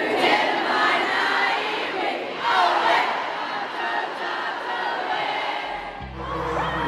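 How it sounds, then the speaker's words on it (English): Concert crowd in Auckland, New Zealand, cheering loudly and singing along in unison, a dense roar of many voices that swells and holds before easing near the end. "Everybody in the crowd just started freaking out, because when you're a Kiwi, everybody sings along."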